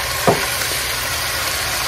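Ground spices and rice tipped onto vegetables frying in a pot for vegetable biryani, a steady close sizzle with a brief soft rustle as the ingredients land.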